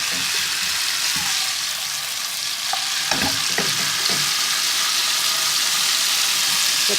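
Ginger and garlic paste fries in a hot pan for a chicken korma, giving a steady close sizzle with a few stirring scrapes partway through.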